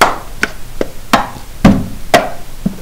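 Cup song rhythm played quickly on a desk: sharp hand claps, fingertip taps and hollow plastic cup hits land in a brisk, uneven pattern, close and crisp with no talking.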